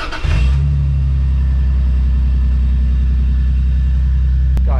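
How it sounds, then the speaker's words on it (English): A car engine cold-starts with a brief crank, then settles into a loud, steady low rumble close by, with a short rev near the end; no talking. "Cold start time."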